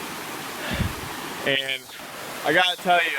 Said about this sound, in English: I'm right beside the waterfall